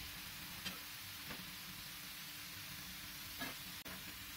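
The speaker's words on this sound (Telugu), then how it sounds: "ఇవి మంచి గోల్డెన్ కలర్కి వచ్చేంత వరకు ఫ్రై చేసుకోవాలి" Potato pieces fry in hot oil until golden, a faint, steady sizzling hiss throughout with a few soft stirring scrapes.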